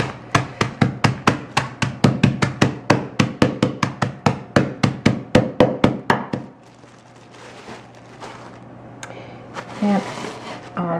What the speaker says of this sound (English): I'm just going to give these a few whacks and then roll them to crush them